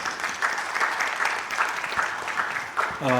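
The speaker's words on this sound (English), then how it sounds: "Request you to give a big round of applause to our eminent speaker and the industry leaders." Applause from the audience at a talk on secure coding culture and AppSec, a steady dense patter of clapping that runs throughout at moderate loudness with a brief voice near the end.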